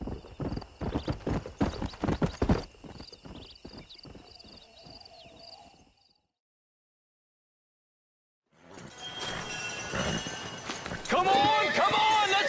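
Horse hooves clip-clop in a rapid, steady rhythm in the Western video game Red Dead Redemption, then silence falls before another burst of galloping hoofbeats mixed with loud action sounds and a whinny.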